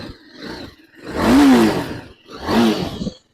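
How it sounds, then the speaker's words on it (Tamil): A TVS Apache RR310 motorcycle engine revs hard twice, rising into a throaty exhaust roar and falling back between the bursts, loud and close. "ஸோ எக்ஸாஸ்ட் நோட்டும் சரி பயங்கரமா இருக்கு"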